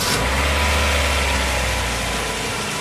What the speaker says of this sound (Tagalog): Pa-start ko muna itong makina.